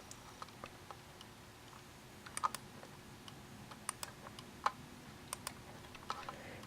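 Buttons on a Logitech TrackMan PS/2 trackball click in sparse, irregular taps, crisp and close but quiet, with a faint steady room hum beneath and no talking.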